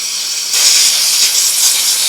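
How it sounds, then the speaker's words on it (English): Compressed air blasts through the passageways of a Honda HRX217 lawn mower carburetor body. A loud, steady hiss kicks in after a brief softer rush and carries on alone. "Blow out all the passageways real thoroughly."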